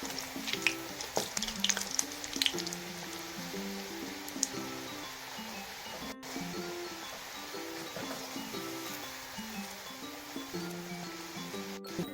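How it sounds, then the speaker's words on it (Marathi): Bottle gourd vadas fry in oil with a constant, low bubbling sizzle, partly masked by background music playing throughout. "अशा प्रकारे तळून घ्यायचे आपण"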